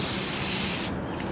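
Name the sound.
spray bottle misting planted seeds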